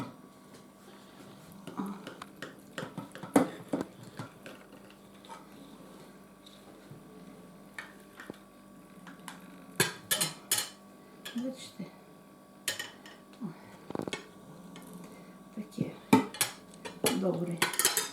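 A knife works through a set cold aspic of rooster and pork, producing scattered clinks and taps of blade and utensils against a dish, with a person talking softly at intervals.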